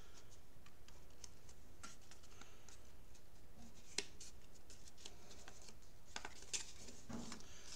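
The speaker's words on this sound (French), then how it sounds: "je vais simplement passer un peu partout avec la règle, tout aller plier directement" Paper being creased and folded with a ruler while building a spectrometer, faint scattered ticks, taps and scrapes at close range with no talking.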